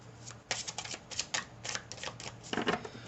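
Oracle cards, a romance angel deck, being shuffled by hand in a quiet room: a rapid run of crisp papery riffles and flicks in irregular bursts, close and alone with no talk.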